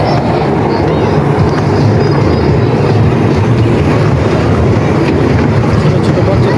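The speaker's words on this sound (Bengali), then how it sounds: "চালু হয়ে গেছে ট্রেন, চালু হয়ে গেছে" A small amusement-park train runs in a park: a loud, steady mechanical rumble and clatter that continues unbroken, with what may be faint background voices mixed in.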